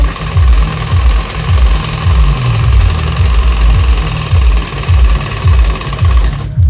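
A sewing machine stitches a bag made from a rice sack with a loud, steady mechanical chatter. Its low pulsing thumps repeat in a fast, even rhythm and run without a break, close by, with no voices.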